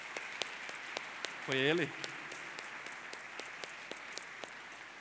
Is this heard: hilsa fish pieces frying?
no